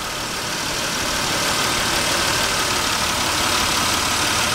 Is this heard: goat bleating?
no